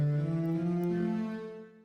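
Low sustained notes from a software double bass instrument playing a theme, a deep droning tone that holds steadily and fades out at the end, with no talking.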